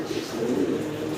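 A pair of fancy down-shape pigeons gives a brief, close, low throaty coo that rolls on steadily for about a second.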